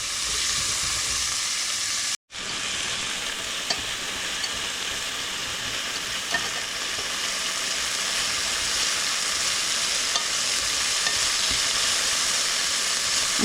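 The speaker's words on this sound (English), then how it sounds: "We're going to saute this until lightly caramelized." Onions sautéing over high heat in a pan give a loud, steady sizzle with scattered crackles and spatters, broken by one abrupt brief cut near the start, with no voices.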